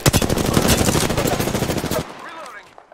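Rapid bursts of Prowler fire from Apex Legends crack out loud and close for about two seconds, then cut off and leave quieter game ambience.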